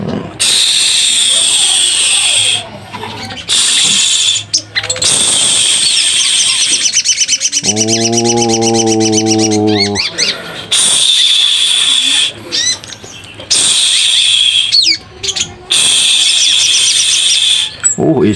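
Ijoan (leafbird) kept as a cage bird, a young hand-raised one, sings a loud, busy string of high chirps and warbles close by, nearly continuous, with a brief lower buzzy call in the middle.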